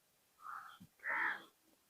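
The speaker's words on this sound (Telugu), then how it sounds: "పిట్టలు అయితే భలే అరుస్తున్నాయి." Birds calling outdoors near a large banyan tree, with two harsh, crow-like caws in quick succession over a quiet background, the second louder and longer.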